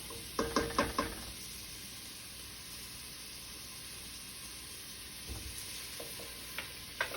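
Garlic and spices frying in a pan for curried butternut squash soup, a soft continuous sizzle with a few clattering stir taps near the start and end, close but quiet.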